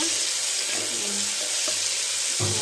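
Tomatoes cooking with onions in a pan for fenugreek rice give a steady, close hiss of sizzling and frying throughout, with a faint low clink or two near the end and no talking.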